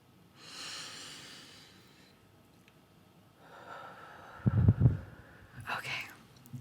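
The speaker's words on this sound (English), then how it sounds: "Deep breaths with me, ready?" Slow, deep breaths taken close to a microphone in a whispered ASMR setting: a soft inhale, a pause, then a longer inhale and a loud, gusty exhale ending in a quieter breath.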